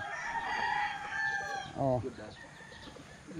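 A straight-combed gamefarm rooster crows close by in a single strained, rising call, with faint clucks and background voices around it.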